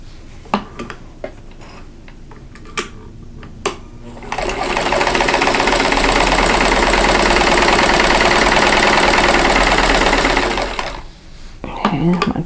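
A sewing machine chain-pieces fabric pieces together, running loud and steady for about seven seconds after a few scattered clicks and handling sounds, then stopping.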